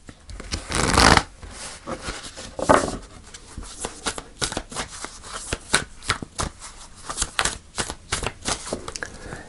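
Oracle cards shuffled by hand during a tarot reading give two louder riffling bursts near the start, followed by a run of soft, rhythmic card slaps and flicks, close and alone without speech.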